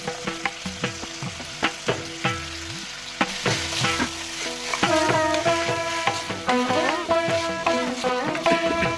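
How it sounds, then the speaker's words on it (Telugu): Tomato, beans, carrot and potato pieces frying in a pan for veg rice, stirred with repeated scraping and clattering strokes over a steady sizzle, close and fairly loud throughout. "తరువాత టమాటా, బీన్స్, క్యారెట్, ఆలుగడ్డ ముక్కలు వేసి కలపాలి."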